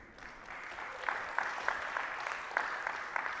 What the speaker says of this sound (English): And you guys can clap at that